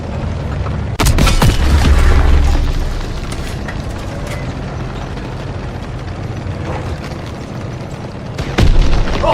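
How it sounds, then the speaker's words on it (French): Heavy artillery shelling booms in a Call of Duty WWII battle, with loud explosions at the start and near the end over a rumbling wartime din and scattered gunfire. "Rapson, la première section se fait pilonner!"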